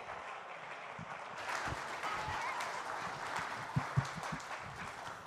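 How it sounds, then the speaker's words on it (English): A church congregation clapping during a Sunday service, a soft, diffuse round of applause heard from a distance at low level, with a couple of sharper knocks near the end and no voices. "a round of applause"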